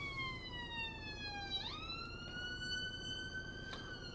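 A wailing ambulance siren sounds from behind a car in traffic, its rising and falling tone steady and fairly close over a low road rumble, with no talking.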